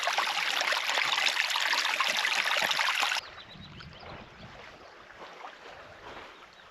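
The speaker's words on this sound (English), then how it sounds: "Fresh running water rather than the loch water." A fresh running stream beside a Scottish loch flows steadily and fairly close, a bright continuous rush that suddenly drops to a quieter, softer trickle.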